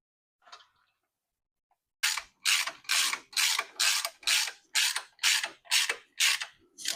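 A ratchet fits a cam cover bolt on a PE turbo engine, giving about ten rapid, loud clicking bursts in a steady rhythm, close up, after a faint knock and a short silence.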